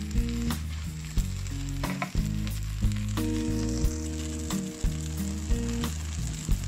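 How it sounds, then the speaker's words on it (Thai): Glass noodles stir-fried in a hot pan give a loud, continuous sizzle broken by regular scraping and clattering strokes of the spatula, with no voices. "ผัดเข้าไปนะครับ"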